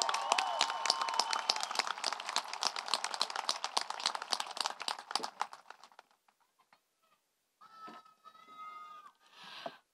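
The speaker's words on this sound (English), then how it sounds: "Let's give them a rousing applause" Applause from a graduation crowd for top scholars at the Valley View High School class of 2021 ceremony; brisk clapping that thins out and stops midway, followed by quieter scattered sounds and a brief voice.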